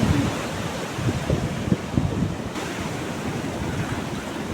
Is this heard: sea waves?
yes